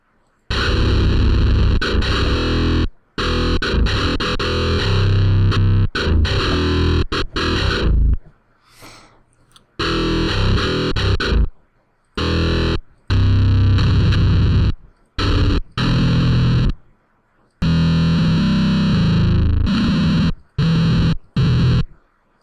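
A music plugin puts out a grimy, heavily distorted synthesizer tone in loud, dense bursts that cut abruptly in and out with short silent gaps.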